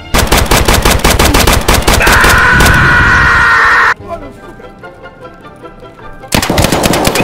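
Loud, close automatic gunfire in Escape from Tarkov, a sustained rapid burst that cuts off abruptly, a quieter pause, then another loud volley at the end.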